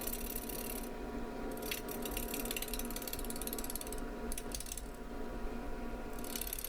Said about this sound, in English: Starting off slow, just to see how it will react when I get out to the edges with the bowl gouge.